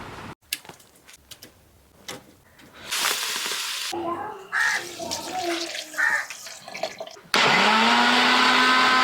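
Kitchen blender whirring up a shake from cut home-grown dragon fruit, starting after clatter and brief mixed sounds and running loud and steady near the end, close to the microphone.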